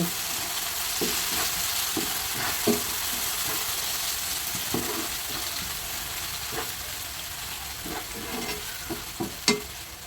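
Chicken pieces with onions fry and sizzle steadily in a pan for chicken noodles, a continuous close hiss broken by several scrapes and knocks of stirring, with no talking.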